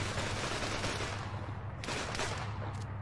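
Gunfire in the Arma 3 King of the Hill multiplayer battle, a dense continuous barrage of rapid shots over a roaring backdrop, with a few sharper, nearer cracks toward the end.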